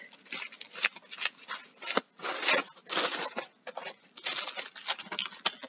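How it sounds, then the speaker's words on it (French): Tissue paper wrapped around a mailed package crinkles and rustles in quick, irregular bursts as it is pulled open by hand, close and fairly soft. "C'est bien emballé dans un petit papier de soie. Alors, on va ouvrir."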